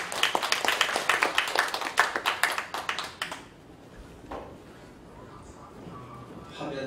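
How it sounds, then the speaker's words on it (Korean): Applause at a church symposium breaks out in a scattered cluster of distinct hand claps for a few seconds, then stops abruptly, leaving quiet room tone with faint movement. "나오실 때 힘차게 박수하시겠습니다."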